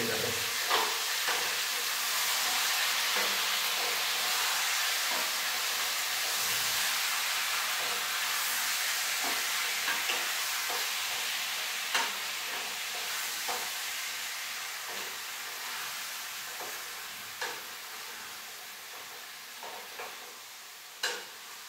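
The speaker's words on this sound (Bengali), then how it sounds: "হাতটাকে ধুয়ে নিয়ে প্রথমে একটু নাড়বো ভালো মতো করে, নাহলে চিকেনগুলো আবার তলায় তলায় লেগে যাবে" Chicken for a kosha curry stirred in a hot frying pan, a continuous hissing sizzle with repeated scraping strokes of the spatula against the pan bottom, gradually easing in loudness.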